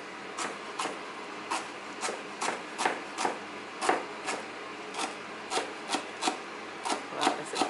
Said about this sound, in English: now just cutting up some celery